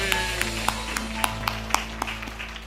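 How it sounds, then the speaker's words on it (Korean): A church congregation claps together during a Christmas thanksgiving service, a steady wash of hand claps with sharper individual slaps standing out at a regular beat, moderately loud and unbroken by any voices. "우리 하나님께 영광의 박수 올려드립니다."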